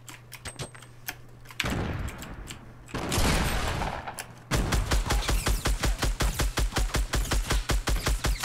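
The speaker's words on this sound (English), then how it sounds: "Oh, they're shooting at us." Video game gunfire: scattered single shots, a heavy burst, then a long rapid rhythmic stream of automatic fire, loud and close.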